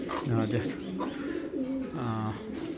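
A racing pigeon coos close by in soft, throaty bursts, a few rounded phrases repeated over a few seconds.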